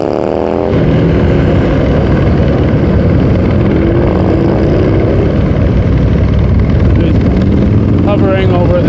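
A helicopter hovers over the exit of an oval during an Honor Flight ceremony, its loud, steady rotor and engine drone filling the air while voices mix in underneath.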